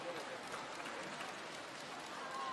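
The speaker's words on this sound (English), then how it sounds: "there's a round of applause all round" Steady applause rises from the crowd at a CEV Champions League women's volleyball match between Rzeszów and VakifBank Istanbul, a continuous wash of clapping in a large arena with a commentator talking over it.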